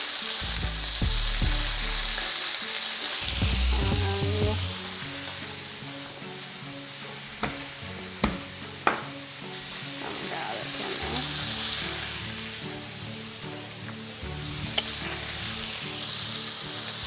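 A rack of lamb fries in a hot pan with rosemary and butter, giving a loud continuous sizzle close by, with a few sharp pops and clinks along the way.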